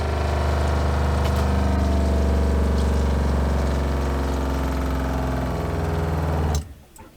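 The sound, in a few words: RV water pump running to pressurize antifreeze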